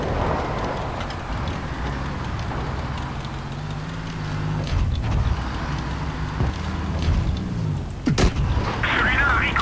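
Tank cannon fire in World of Tanks Blitz, a few heavy booming shots with sharp cracks near the end, heard over rumbling engine noise and a talking player.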